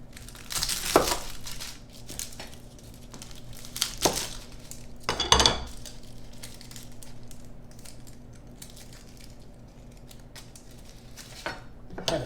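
Shallot being handled and cut on a board for tartar sauce in a kitchen, a few sharp knife knocks and crunches among faint clinks and rustling, close and fairly quiet, no talking.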